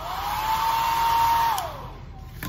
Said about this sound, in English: The hairdryer blew it right off the table.